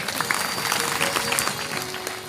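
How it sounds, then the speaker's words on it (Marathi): Audience at a Shiv Mahapuran katha gathering clapping for the children, a steady dense patter of hands from many people filling the space, with no speech over it. "एकदा टाळ्या वाजव पोरांसाठी"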